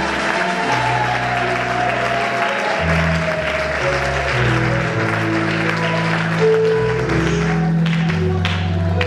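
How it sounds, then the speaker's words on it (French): Church congregation applauding in praise of Jesus during a French-language service, dense continuous clapping mixed with voices and low musical tones, loud and sustained throughout. "Acclamons très fort pour Jésus"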